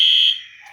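A fire alarm gives off a loud, piercing, high electronic tone that holds steady and then fades away, with no voices over it.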